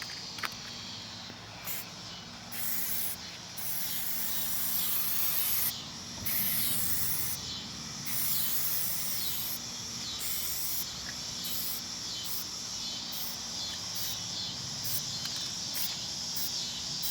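Plasti Dip sprayed from an aerosol rattle can onto a car's grille and trim: a loud, close hiss in repeated bursts of one to two seconds, separated by short pauses, with no talking.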